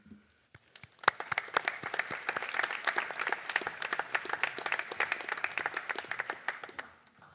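An audience applauds warmly at an academic awards night for the National Honor Society, a dense, steady clapping that builds after a sharp start and holds for several seconds before tapering off, with no voices.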